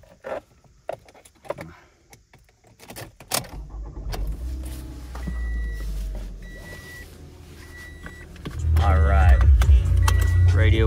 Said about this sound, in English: All the windows work like they should.